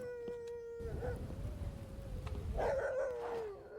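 A dog gives a long, thin howl over a rumbling background, with a louder burst of howling and barking near the end, heard alone without talk.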